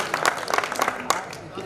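Applause from an audience at a Hindi poetry recital in Ujjain, a short burst of crowd clapping with voices mixed in underneath, loud and close.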